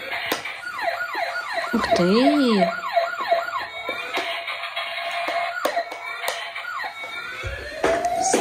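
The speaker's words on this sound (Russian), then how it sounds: "Пожарная машина." A toy fire truck plays a wailing electronic siren close by, its rising and falling tones repeating. A child and an adult speak briefly over it, and there are a few clicks.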